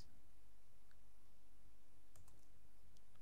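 Quiet, scattered keystrokes on a computer keyboard as an IP address is typed into a terminal emulator on a virtual machine, a few sparse clicks over steady background hiss.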